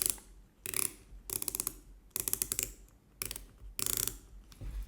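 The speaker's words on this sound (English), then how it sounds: "We have an aluminum bezel. Yeah, it clicks really nice." An aluminum bezel on an Omega Seamaster Diver 300m (2024 black model) being turned, giving five quick bursts of crisp ratcheting clicks, close and clear, separated by short pauses.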